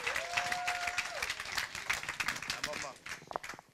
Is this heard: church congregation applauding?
yes